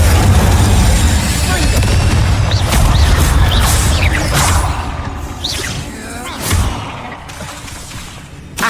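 Alternating Incendio and Glacius spell effects in Hogwarts Legacy, loud booming bursts and whooshing blasts layered over a steady rumble, then fading into quieter scattered hits toward the end.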